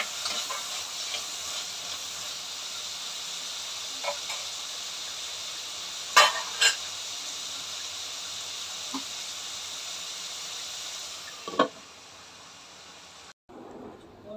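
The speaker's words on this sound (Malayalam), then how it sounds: "അവിടെ ടൊമാറ്റോ ഒക്കെ ഒന്ന് വഴന്ന് വരട്ടെ." Tomatoes sauté in a pan while jackfruit-seed curry is prepared, giving a steady, moderate hiss with a few faint stirring taps before the sound cuts off abruptly near the end.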